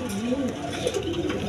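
Pigeons cooing in a loft of lively pairs, low soft coos repeating through the clip with a steady bed of background noise and some voices.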